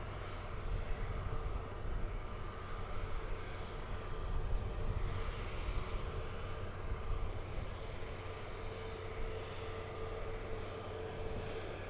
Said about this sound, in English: This is American Flight 711. It's an Airbus A321neo